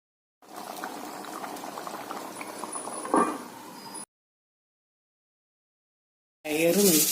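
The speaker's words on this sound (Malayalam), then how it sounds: "10 മിനിറ്റ് തിളച്ച് വേകാനായിട്ട് മൂടി വെക്കുന്നു." Water simmering in a pot for about four seconds, a steady, busy bubbling with one louder surge near the end. Silence follows, then a short burst of noisier bubbling returns.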